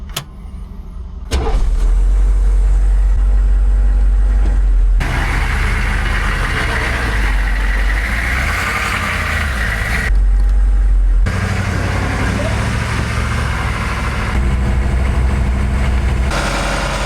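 A Humvee engine idling with a deep, steady low rumble that stays constant for many seconds after starting up, heard close and loud with no talking.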